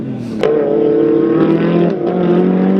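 Drift cars battling through a turn in a Prodrift semi-final, a loud engine roar that surges sharply at the start and then holds a sustained high revving whine, with gear-shift dips and a second engine layered underneath.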